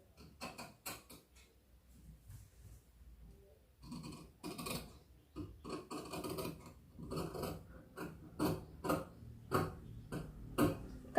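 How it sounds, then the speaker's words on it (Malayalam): Scissors snip through churidar fabric while cutting the neckline, a series of close, crisp crunching cuts that start sparse and quicken into a steady rhythm, with no talking. "ഇനി ഇതാ നെക്ക് കട്ട് ചെയ്യുന്നു"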